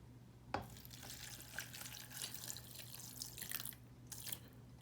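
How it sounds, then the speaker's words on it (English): Water trickles and splashes steadily into a bowl holding beef ramen, with a faint low hum in the background and no talking. "add some water"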